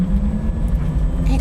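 A car from a new Welsh start-up, Riversimple, runs with a steady low engine or motor drone close by, continuous throughout with faint rumble and no talk over it.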